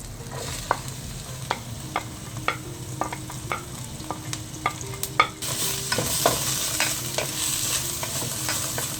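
Sliced onions sauté in a pan for a curry, with a steady sizzle under a regular run of sharp spoon taps and scrapes. The frying grows louder and brighter after about five seconds.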